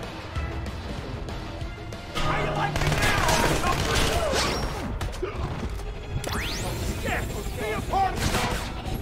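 Gunfire in the video game Splinter Cell Conviction, dense overlapping bursts and bangs that swell into a loud sustained barrage, with a sharp whizzing sweep partway through, up close and busy.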